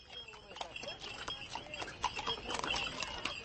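Hooves of horse-drawn traps clop along a rutted dirt lane in central Maimana, an uneven, moderately close patter of steps with faint background talk.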